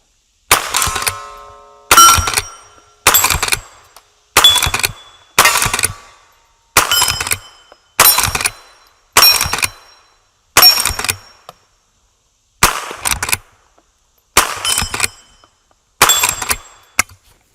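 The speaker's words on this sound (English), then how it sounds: "So let's do a few shots downrange with it." Henry .22LR rifle fired downrange, about thirteen sharp cracks spaced roughly a second or more apart, each with a short ringing tail, loud and close with no voices.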